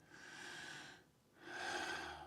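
Two slow, deep breaths, a long airy inhale followed after a short pause by a stronger, louder exhale, close and unhurried with no talking.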